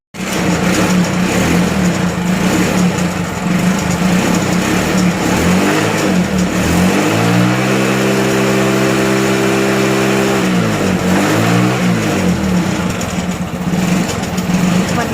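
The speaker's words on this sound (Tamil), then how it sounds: "பார்த்திங்கன்னா வண்டியை வந்து ஸ்டார்ட் பண்ணியாச்சு." A TVS XL moped engine starts up and idles loudly throughout after a full service, its steady mid-pitched running briefly rising into a revving surge midway before settling back, heard up close with no talking.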